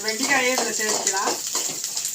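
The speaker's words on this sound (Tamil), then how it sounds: "வெண்டைக்காயே இதில் சேர்த்துக்கலாம்." Okra tipped into a hot pan for a buttermilk curry meal, crackling and sizzling steadily with stirring scrapes, while someone talks over it close by.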